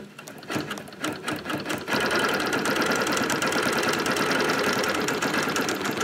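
A Bernina Q24 longarm quilting machine runs steadily, its fast rhythmic needle stitching turning into a continuous loud mechanical whir after a few stop-start bursts at the beginning, with no talking.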